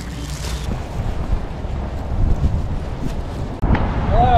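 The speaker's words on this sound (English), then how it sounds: "Windy. Is that good or bad?" Outdoor wind gusts buffet the microphone with a steady, loud low rumble and hiss, easing briefly near the end before returning just as strong; no clear talking is heard.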